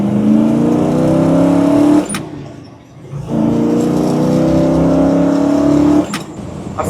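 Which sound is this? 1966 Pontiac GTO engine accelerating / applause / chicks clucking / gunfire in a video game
1966 Pontiac GTO engine accelerating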